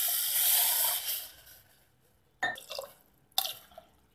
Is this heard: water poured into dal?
yes